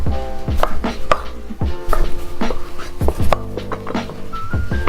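A knife chops jalapeños on a cutting board for jambalaya, close and loud, in an irregular series of sharp thuds with brief pauses between strokes and no talk.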